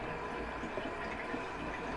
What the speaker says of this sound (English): put about a couple tablespoons of water in the dish